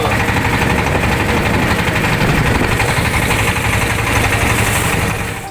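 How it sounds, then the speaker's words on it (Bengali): A boat engine drones loud and steady as the boat docks at the Sada Pathor ghat, a constant close mechanical roar that eases slightly at the end. "এইমাত্র আমাদের নৌকা ভিড়ল সাদা পাথর ঘাটে"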